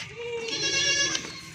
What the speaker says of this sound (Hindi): माशाल्लाह, खूबसूरत बकरी है